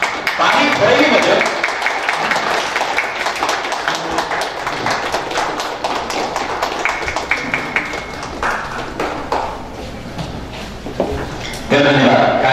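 Applause and clapping from a gathered audience at the inauguration of a Nepali Christmas program, dense and steady over about twelve seconds, mixed with voices and crowd noise.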